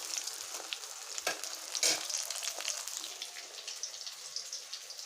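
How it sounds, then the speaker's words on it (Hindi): Taro leaf rolls fry in a pan with a soft, steady sizzle and crackle, broken by a few brief bursts as pieces shift in the oil. No one speaks. "फिर मैं फ्राई करती हूँ"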